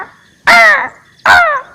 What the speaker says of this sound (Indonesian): gagak turun.